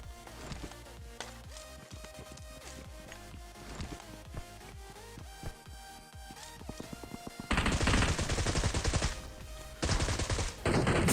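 Gunfire in the mobile battle-royale game PUBG Mobile, with bursts of rapid shots arriving over a busy game soundscape, growing loud and dense in the final few seconds.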